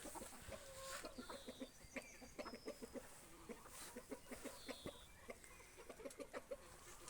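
Chickens on a small farm, repeated close clucks and short calls in an uneven rhythm, with occasional higher squawks, over quiet yard ambience.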